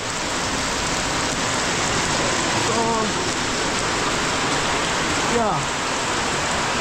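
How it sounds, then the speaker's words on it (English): Steady rain pours outdoors as a broadband hiss, constant and close throughout, with a brief spoken remark and a couple of faint sliding tones over it. "it's raining, man."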